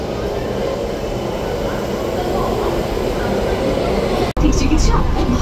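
A Kolkata Metro train bound for Dakshineswar pulls into an underground station with a loud, steady rumble and roar, a voice faintly present, before a sudden cut and renewed noise.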